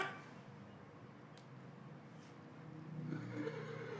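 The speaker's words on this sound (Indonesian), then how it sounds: "Itu kuda yang kanan rewel sekali." A horse whinnies faintly at a distance, a short high neigh rising out of a steady low background rumble, with a second, softer call following a moment later.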